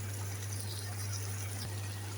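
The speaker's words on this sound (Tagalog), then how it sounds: "Lagyan ulit natin ng tubig." Water running steadily into a cooking pot of vegetables, a continuous close hiss of flow with a low steady hum beneath, no voices.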